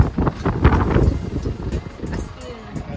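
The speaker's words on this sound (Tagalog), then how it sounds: "Sobrang lakas ng hangin" Strong outdoor wind in Vigan City buffets the microphone with loud, gusty low rumbling, while people talk and call out over it.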